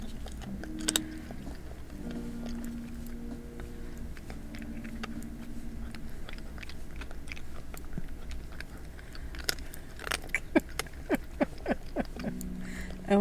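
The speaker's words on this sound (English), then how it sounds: "I'm sorry if the crunching kitty crunchies annoy you" A cat crunching dry kitty crunchies, with soft irregular bites and chewing up close that grow into a quicker burst of crisp crunches toward the end, alone without talk.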